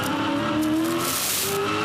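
A 2006 Supercars race car brakes hard and downshifts into the tight turn 4 hairpin at the Tasmania Challenge. Its close, loud engine note drops in pitch through the gear changes, with a brief tyre scrub and no voices.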